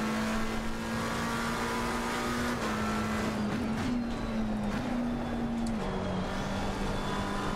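McLaren GT race car engine in Assetto Corsa Competizione, a steady loud drone holding near-constant revs with slight pitch shifts, heard alone throughout.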